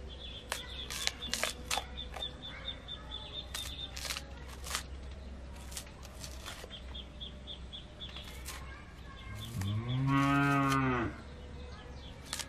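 A cow lets out one long, loud moo near the end, after a stretch of scattered clicks and faint chirps in the background.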